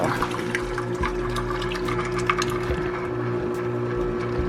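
A no-ice, no-salt home ice cream maker runs with a steady motor hum and rattling churn while the liquid mixture splashes and trickles into its bowl, close and continuous throughout.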